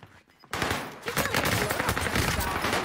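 After a brief quiet moment, a sudden dense burst of rapid gunfire erupts in a video game shooter, loud, sustained and continuous for over two seconds.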